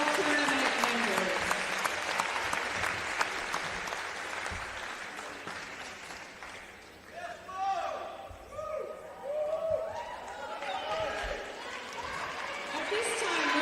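Indoor applause for the OSAA 2A volleyball all-tournament team at an Oregon state championship game: dense, sustained clapping that fades after about six seconds as an announcer's voice takes over.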